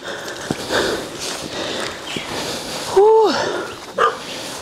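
A puppy sniffs and snuffles close by at a rural home along a long, rough driveway, followed by a short rising whimper and a brief yip, with faint background rustling.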